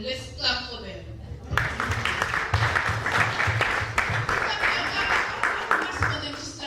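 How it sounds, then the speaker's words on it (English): Church congregation at a Women's Day service clapping for the women, bursts of crowd clapping that start after a brief spoken moment and carry on under ongoing talk and voices. "Let's clap for them"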